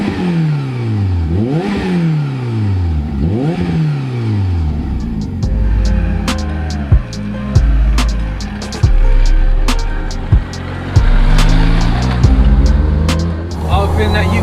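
A stripped-out Peugeot 106 with a 340bhp turbo engine revving hard in repeated rising and falling sweeps, then settling into a loud, close drone with sharp clatters and pops as voices talk over it.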